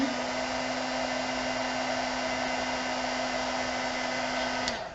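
A hot air tool blows with a constant, loud whooshing hiss and a steady motor whine, cutting off abruptly near the end.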